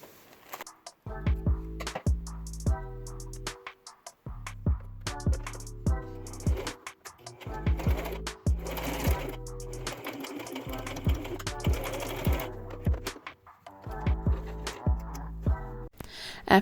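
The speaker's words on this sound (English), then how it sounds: "4 more of these and sew them on." A sewing machine stitching pieces onto a rainbow bow purse runs in repeated short bursts of rapid mechanical chatter, with brief pauses and handling between runs, close and moderately loud.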